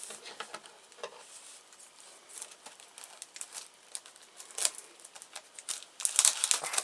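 Plastic bag crinkling while a boxed electricity power meter is unpacked, scattered dry rustles and crackles that grow louder and denser toward the end, with no talking.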